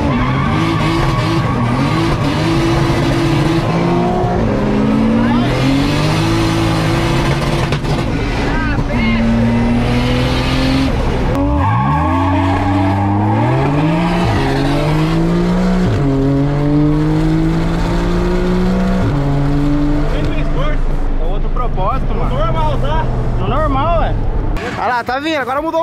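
A 500-horsepower Nissan 350Z and a Porsche drag race, engines revving up through repeated gear shifts with rising and falling tones and tires skidding and squealing. Excited commentary runs over the whole stretch.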